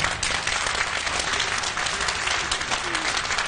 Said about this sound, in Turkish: Bir erkek diyenleri alkışlayabilir mi?